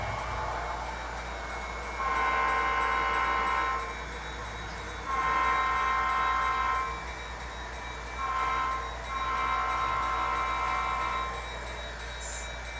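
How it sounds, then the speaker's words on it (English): A model Union Pacific Centennial DDA 40X diesel locomotive rolls along a club layout, its horn sounding in four loud, steady blasts of varying length over a constant low motor hum. "another unusual locomotive, the Union Pacific Centennial DDA 40X"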